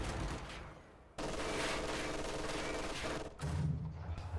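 Machine gun fire in the Company of Heroes 2 video game: sustained, dense rattling bursts with a brief break before resuming, heavy but fairly distant in the mix, with low rumbling battle noise under it.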